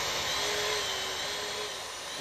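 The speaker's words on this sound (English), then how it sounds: "Grab the remote for the actual pump and just start it and cycle it" WREN hydraulic torque wrench pump, set to 9,000 psi, running steadily with a continuous high-pitched whine and broadband hiss, loud and close throughout without pause.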